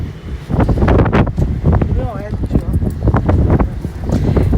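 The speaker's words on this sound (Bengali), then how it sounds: "বাতাসটা এত ভাল লাগতেছে ছাদে আসার পর" Wind blows across a rooftop and buffets the microphone with a loud, continuous low rumble, while a person talks over it the whole time.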